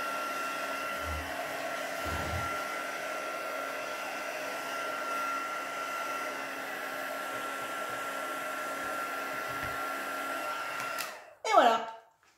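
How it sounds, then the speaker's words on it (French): A heat gun blows hot air a few centimetres over drying paint, a steady whirring fan hiss lasting several seconds before it clicks off with a brief handling rustle. "Je vais venir passer mon heat gun à quelques centimètres."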